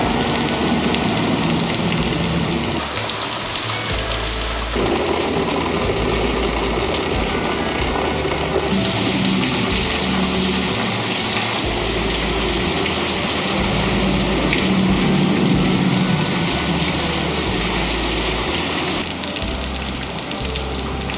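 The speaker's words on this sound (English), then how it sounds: "Till 7 o'clock, I kept waiting for the rain to stop." Steady, heavy rain falls continuously, a dense broadband hiss of drops on surfaces that stays loud and close throughout, with no talking.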